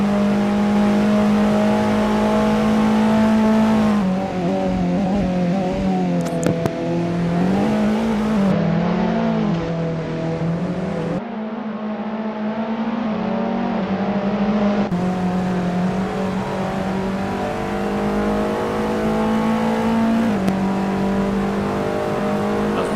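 Touring cars racing on a track in a sim racing league championship, engines droning loudly and continuously with repeated rev rises and gear-shift dips as cars pass close by.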